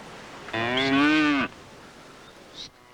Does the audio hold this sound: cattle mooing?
yes